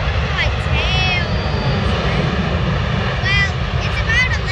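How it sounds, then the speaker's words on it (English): Qantas Airbus A380 landing, a loud steady jet engine rumble and roar close by at a plane-spotting spot near the airport, while a person talks over it. "This is the last plane of the day. Qantas Airbus A380."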